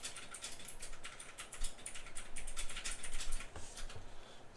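Rapid clicky keystrokes patter across a computer keyboard while credit card details are entered, a quick uneven run of light taps, close and fairly quiet against a faint hiss.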